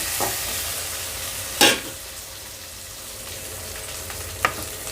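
Green chillies frying in a pan for coriander-mint chutney give a soft, even sizzle, with two sharp scraping stirs of the pan standing out and no talking.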